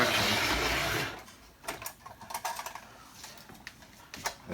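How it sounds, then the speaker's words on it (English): A Marx motor fitted into a postwar toy train locomotive, with no reverse unit, whirs steadily in one direction, a bright continuous mechanical buzz that drops away to irregular clicks and light rattling handling noises. "I installed a Marx motor in here, which, as you can see, does pretty good"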